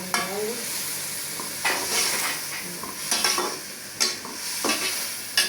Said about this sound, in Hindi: अब डालूंगी हरी मिर्चें।